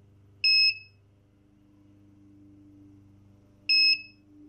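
Two short, loud electronic beeps about three seconds apart come from a CZH Labs Anderson Powerpole power distribution block sounding its under-voltage alarm near 11.8 volts, over a steady low hum.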